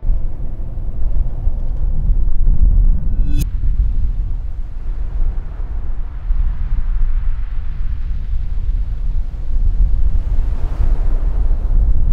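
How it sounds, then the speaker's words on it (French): Waves break on the pebble beach at Fécamp in Normandy under heavy, loud wind buffeting the microphone, a continuous roar of surf and gusts with no talking. "la plage de Fécamp. Ici, les plages, c'est des plages de galets."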